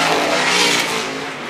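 Sprint car engines roar at Toledo Speedway during the 500 Sprint Car Tour feature, a loud, high-pitched continuous snarl that stays strong and tapers slightly toward the end.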